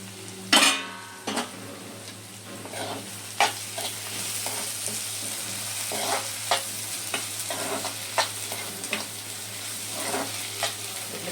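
Onion pieces sautéing in a pan for a mango and onion curry, with a steady soft sizzle and repeated scraping stirs and occasional utensil clinks against the pan, close and alone without talk.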